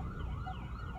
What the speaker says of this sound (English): can you even hear me over the sirens?